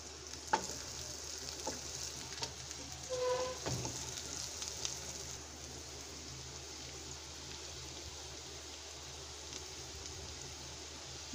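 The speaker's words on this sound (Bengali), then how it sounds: "আরেক চুলে আমি এই যে মাছ ভাজতে দিয়ে দিচ্ছি" Hilsa fish pieces set to fry in oil that is not yet fully hot, a soft, fairly quiet crackle and hiss with a few louder knocks and clatters early on.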